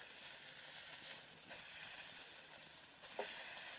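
Beef fillets sizzle in a pan at a camping cook-out, a steady broadband hiss with brief louder flare-ups, fairly close and with no talking over it.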